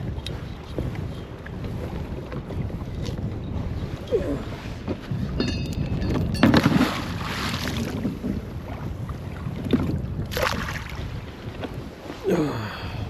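Strong gusts buffet the microphone on a cold lake during a kayak tournament, with low rumbling wind, water lapping against the kayak and occasional paddle knocks, fairly close and continuous.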